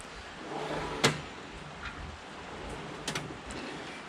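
A metal drawer on a tool box full of Snap-on and Blue Point sockets and wrenches is opened or shut, giving one sharp clack followed later by a couple of softer rattling knocks over quiet room hiss.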